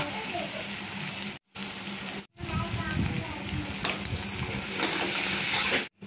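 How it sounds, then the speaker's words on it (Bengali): Chopped onion and ginger sizzle with whole garam masala in a pan, giving a close, steady crackle. The sound is interrupted by a few abrupt brief gaps. "তারপরে পেঁয়াজ কুচিটা আমরা ছেড়ে দিলাম, ভালো করে নেড়ে চেড়ে দেওয়ার পর আদা কুচি দিয়ে দিলাম।"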